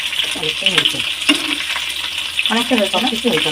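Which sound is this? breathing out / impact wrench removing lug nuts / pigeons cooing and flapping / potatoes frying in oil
potatoes frying in oil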